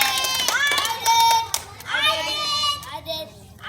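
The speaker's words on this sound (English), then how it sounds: "I want you to clap as loud as you can." An audience at an alligator show tries to clap one-handed, producing a thin, scattered patter of hands mixed with children's excited shouts and squeals from the crowd.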